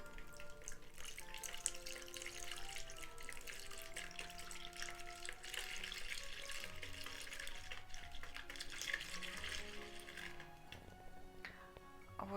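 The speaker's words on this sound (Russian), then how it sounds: "И в эту массу будем доливать воду понемножечку." Water is poured a little at a time into pancake batter mixed with eggs. A faint, continuous trickle and splash sounds close by, with soft clinks and no voices.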